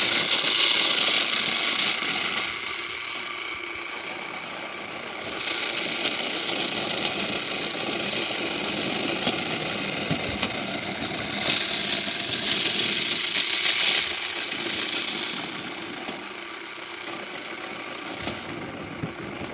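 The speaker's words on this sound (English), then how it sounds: "I sent it into the stadium while it's spinning to the right" A spinning top whirs steadily inside a stadium arena, a continuous grinding, motor-like hum that swells louder in two stretches, with no talk over it.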